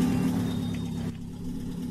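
A low, rumbling engine in the video game The Long Drive drones continuously, a steady mechanical hum that dips slightly partway through, from a car fitted with a big Toros bus engine that is smoking.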